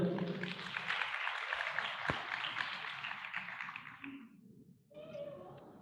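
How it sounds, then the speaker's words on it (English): An audience applauds high school students at a mentorship program presentation, a fairly faint, steady wash of clapping with some voices underneath that cuts off after about four seconds, followed by a brief pause and a voice starting to talk. "Ladies and gentlemen, a round of applause for them"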